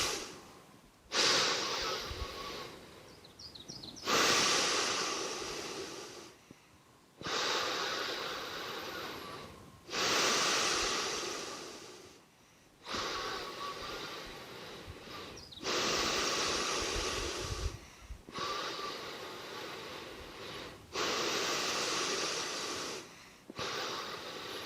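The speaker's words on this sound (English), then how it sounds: "So now I'm going to do the breathing technique with filling the lungs completely." Continuous circular breathing that fills the lungs from the bottom up, heard as a long series of close, loud, hissing breaths with no pause between inhale and exhale, each lasting a couple of seconds, recorded alone without talk.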